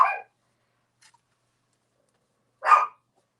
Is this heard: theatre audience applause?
no